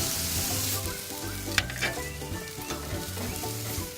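Steak sizzles hard on a high-heat grill in a continuous, close frying hiss, with a couple of sharper pops and crackles partway through and no speech.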